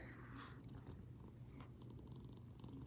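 A quiet, steady low rumbling purr from a cat, continuous throughout, with a few faint soft clicks and rustles on top.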